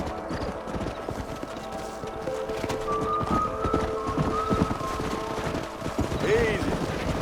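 Horses trotting in Red Dead Redemption 2, their hooves clip-clopping steadily and close for the whole stretch, with other faint game sounds in the background.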